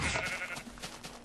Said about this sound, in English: hey, what's up, sheep?